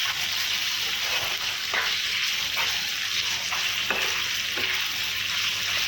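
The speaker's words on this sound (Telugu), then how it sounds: "ఇలా చిన్నగా చాప్ చేసి పెట్టుకున్న చికెన్ని ఇందులోకి యాడ్ చేసుకోండి" Chopped boneless chicken fries in a pan for samosa filling, a continuous loud sizzle with scattered light scraping and stirring taps across several seconds, no speech.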